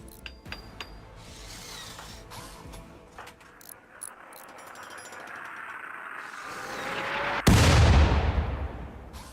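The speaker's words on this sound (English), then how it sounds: "Man, mortars are awful." Mortar fire in RimWorld: a rising whistle of an incoming shell ends in a sharp, loud explosion, preceded by scattered mechanical clicks and thuds.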